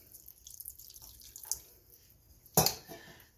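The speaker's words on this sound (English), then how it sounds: "Now I'm gonna go ahead and add a little bit of water to it." Water poured into a pan of chili chicken, faint trickling and dripping followed by a sudden louder splash and sizzle near the end, close and brief, with no talking.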